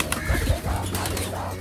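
Pigeons cooing nearby, with soft low throaty coos amid a busy, slightly noisy background and no speech.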